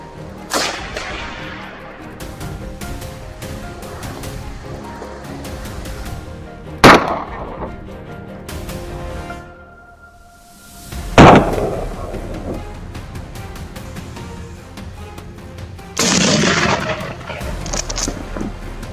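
Rifle shots during a wild boar hunt: a few sharp, loud cracks spaced several seconds apart, standing out over a steady outdoor background with rustling and movement.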